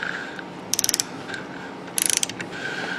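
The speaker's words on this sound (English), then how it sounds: "So I'm going to set my torque wrench. To 18 foot-pounds as specified in the manual." A torque wrench ratchets twice while working on a ZX7R motorcycle, each burst a quick run of about six sharp clicks, close and loud against quiet background hum.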